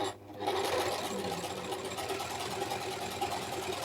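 A Singer S010L household overlocker sews a three-thread seam on fabric, its motor starting after a brief pause and then whirring in a fast, steady mechanical rattle close up, with no speech.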